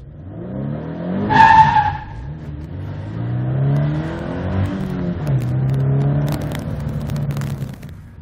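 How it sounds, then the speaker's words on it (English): A Scion FR-S sports car revs hard while tires squeal and skid through a burnout, with rising and falling engine pitch throughout. "Will it do a burnout?"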